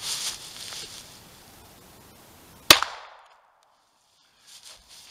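A single sharp shot from a Colt Model 1903 pistol firing Winchester .32 ACP full metal jacket ammunition into wooden boards, loud and close, with a quick ringing decay after faint rustling.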